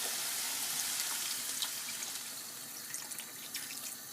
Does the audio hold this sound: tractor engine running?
no